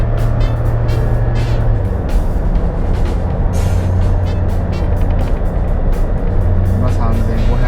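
A Suzuki Jimny JB64W XC engine pulls under acceleration at around 3500 rpm while driving uphill near 80 km/h, a steady loud drone heard from inside the cabin along with road noise.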